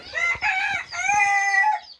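A chicken on a fancy chicken farm gives a loud, drawn-out call close by, with harmonic, wavering tones sustained for about two seconds, no talking.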